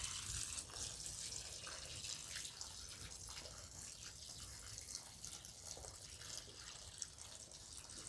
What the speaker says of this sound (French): Ok, un petit arrosage.